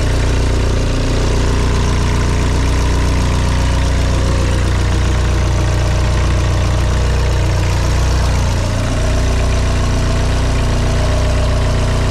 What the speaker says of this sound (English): I started the engines. I'm letting the boat warm up.